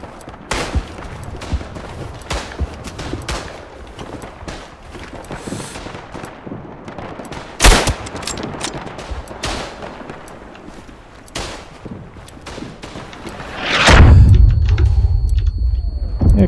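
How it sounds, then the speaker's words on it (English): In the video game Tannenberg, an artillery barrage and gunfire sound as repeated sharp shots and booming blasts at irregular intervals, closing with a heavy rumbling explosion near the end. "Okay, artillery barrage over."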